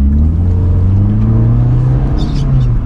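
Renault Mégane 1 RS engine droning steadily and loud, a continuous low hum with a slight rise in pitch, close by and without talk.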